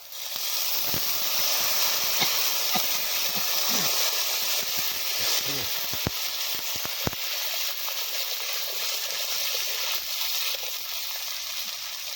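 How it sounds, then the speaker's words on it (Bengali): Water poured into a hot pan of cooked spices at a rainy forest campsite, a loud continuous hiss of steam with scattered crackles and pops throughout. "এবার জল দিয়ে দেবো"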